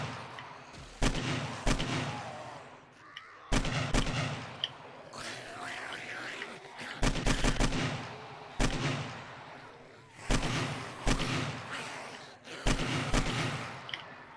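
Heavy booming shots from a gun in the video game 7 Days to Die during a horde night, fired in spaced bursts of a few loud blasts, each decaying into a rumbling tail.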